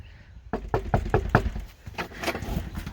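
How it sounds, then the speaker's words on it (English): Knocks on a house's front door: a quick run of five or six sharp, close raps, then a few softer knocks and shuffling movement, with no talk. "Let's knock on the door."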